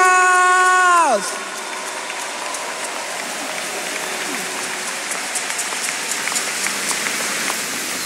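A sustained wave of applause from a large crowd at the RCCG annual convention, welcoming the General Overseer, steady and dense, following a brief sustained musical tone that bends downward at the start.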